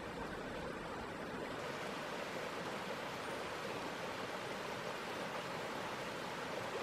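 Rainforest stream water flows steadily toward a hidden waterfall, a constant broadband rush that stays even and moderately close throughout, with no voices.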